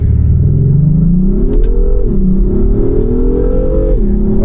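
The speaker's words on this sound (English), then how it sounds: "What I'm pushing is a 3-liter turbocharged V6 that gives you 355 horsepower and 354 pounds-feet of torque through a 10-speed transmission." An Acura MDX Type S with a 3-liter turbocharged V6 and 10-speed transmission accelerates hard, its engine note climbing in a loud, continuous drone through several gear shifts, heard from close inside the vehicle.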